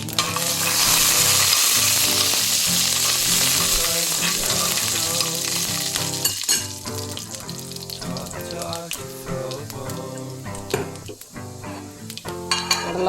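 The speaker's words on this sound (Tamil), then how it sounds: "கடலைப்பருப்பு உளுத்தம்பருப்பு லேசாக தீயாமல் வந்துடுச்சு" Chana dal and urad dal fry in hot oil in a pan, a loud, steady sizzle with crackling that starts dense and gradually thins into sparser popping and stirring scrapes.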